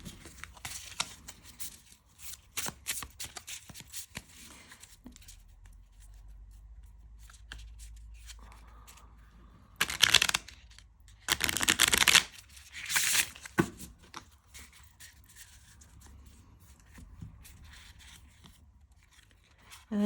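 Mini pocket-size tarot and oracle cards being shuffled, with soft papery riffles and slides throughout and a few louder bursts of brisk shuffling near the middle, heard up close with no talking.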